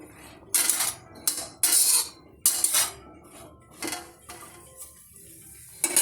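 A spoon scrapes and clinks against a pan while spices are stirred into a curry base for matar paneer, giving several short bright metallic bursts with quiet gaps between them.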